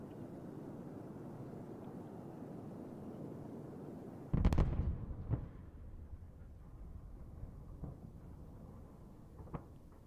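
A SpaceX Starship booster explodes minutes after landing: a sudden loud boom bursts out of a steady rumbling background, followed by a few fainter cracks and pops as the roar continues at a distance.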